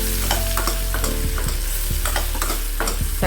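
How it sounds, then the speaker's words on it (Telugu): Sliced bitter gourd fries in oil in a pan while being stirred, with a steady close sizzle broken by repeated scraping strokes of a spoon against the pan, and no voices. "మూత పెట్టుకొని చక్కగా వేపుకోవాలి. మధ్య మధ్యలో కలుపుకుంటూ ఉండాలి."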